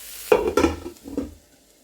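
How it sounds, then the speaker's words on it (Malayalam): Vegetables for a Chinese spring roll filling sauté in a pan, with a few close, brisk stirring scrapes over a light sizzle, briefly and without talk. "അത് നന്നായിട്ടൊന്ന് വഴണ്ട് വരാൻ വേണ്ടിയിട്ട് വെയിറ്റ് ചെയ്യാം"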